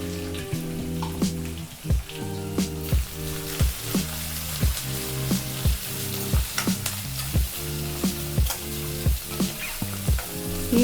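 Onions sizzling in hot oil in a pan for a black field bean curry, a bright continuous fry broken by regular scraping strokes of a spatula, close and loud with no voices.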